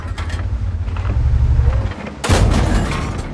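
A tank cannon fires in the World of Tanks video game. A low engine rumble gives way to one loud, sharp blast that rolls out into a booming tail.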